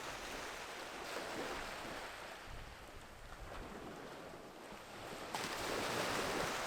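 Ocean waves wash in and out on a shore, a steady broad hiss of surf that swells louder near the end, continuous and close.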